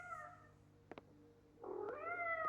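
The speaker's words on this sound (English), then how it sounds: "Time to greet our furry friend. I hope the cat's okay." A cat meows in the video game Life Is Strange: Double Exposure: a drawn-out meow, a pair of quick clicks, then a louder, longer meow, heard alone over a quiet game background.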